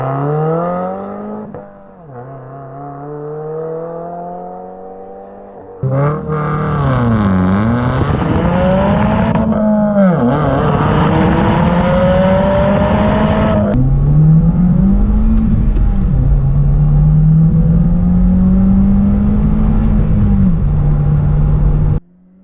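2015+ Subaru WRX fitted with a cp-e axle-back exhaust revving hard, repeated loud rising and falling engine sweeps close by, then a sustained high rev held before cutting off.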